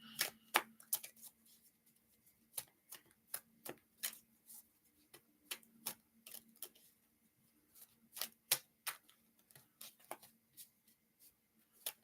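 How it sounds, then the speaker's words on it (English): Tarot cards being shuffled over and over at a reading table, crisp riffling bursts and soft card taps repeating in irregular clusters, close and quiet with no talking. "I can't stop shuffling them."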